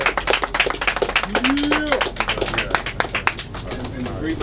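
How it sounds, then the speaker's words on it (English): A group on a boat cruise claps in a brisk, scattered round of applause, fairly close, with a brief voice-like whoop rising over the clapping. "let's give ourselves a warm round of applause"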